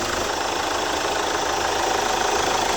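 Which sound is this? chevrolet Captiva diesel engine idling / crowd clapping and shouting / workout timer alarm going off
chevrolet Captiva diesel engine idling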